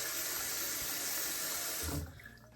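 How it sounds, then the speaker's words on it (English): Cold water pours steadily from a bathroom tap during a shave, a smooth close rushing stream that stops abruptly near the end and leaves a quiet room. "let's do cold water. A little bit of cold water."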